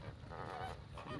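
Flamingos call at Lake Amboseli, a brief, faint, honking goose-like chatter from a flock, steady and somewhat distant with no talk over it.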